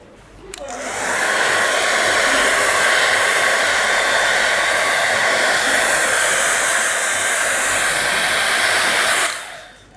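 Hair dryer blowing over a first watercolour wash on paper in an urban sketching demonstration, switching on with a click, holding a loud steady whoosh for about nine seconds, then winding down.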